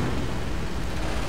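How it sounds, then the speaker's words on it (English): Big explosions in the World War II strategy game Company of Heroes roll out as a dense, continuous rumbling blast, loud and unbroken for just over a second, with no voices. "There are some big explosions."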